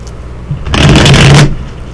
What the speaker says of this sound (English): Good shuffles.